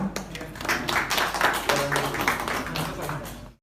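A small studio audience at a podcast recording claps briefly, a burst of sharp hand claps lasting a few seconds before fading out, with speech mixed in.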